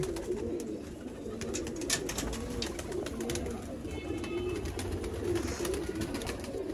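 Red-eyed A-class pigeons from the Sialkot border area coo steadily in a low, continuous murmur, a close flock voicing overlapping calls with no talk.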